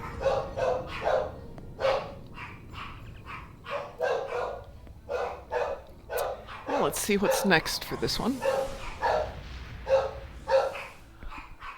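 A small dog yips and barks repeatedly in a steady, close run of sharp barks with a brief whimpering burst in the middle, while a person talks over it.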